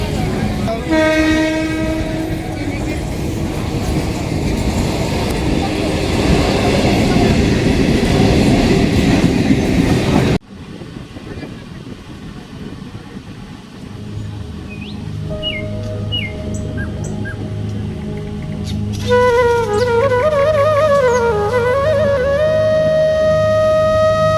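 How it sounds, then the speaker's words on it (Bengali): A local train runs toward Naihati Junction: a loud, steady rumble and rattle of carriages, with its horn blaring near and sustained at the start and again toward the end. "ফাইনালি আমাদের ট্রেন নৈহাটি জাংশনে পৌঁছে গিয়েছে"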